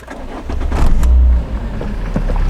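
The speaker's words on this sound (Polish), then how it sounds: "możemy odpalać samochód" A Volvo 480 engine cranks and catches, rising to a brief rev before settling into a low steady idle, heard from inside the vehicle.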